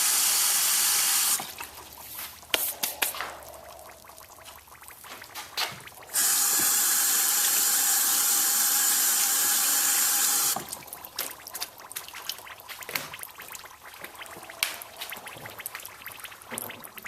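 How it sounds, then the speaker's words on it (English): Tap water gushes into a bucket for mixing pottery glaze in two long, loud bursts, with quieter stretches of clattering and handling between and after them. "begin adding water."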